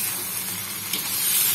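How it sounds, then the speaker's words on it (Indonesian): Chicken pieces sautéing in a pan for asem-asem ayam give off a steady close sizzling hiss with no break, loud and even, with a small spurt of crackle near the middle. "Kita tumis dulu sebentar"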